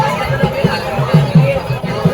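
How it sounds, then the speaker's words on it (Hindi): Dense crowd chatter fills a long temple queue, a steady murmur of many overlapping voices close around, with a nearby voice rising above the babble in short bursts. "गाइस, बहुत भीड़ है, मतलब इतनी ज़्यादा भीड़ है,"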